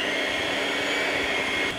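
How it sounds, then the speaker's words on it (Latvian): An electric kitchen mixer running slowly through cake batter for a Viennese chocolate cake, a steady, loud, unbroken whir with a bright motor hum and no voices. "Un lēni mikserējot, jūs vienkārši veidojat viendabīgas konsistences masu."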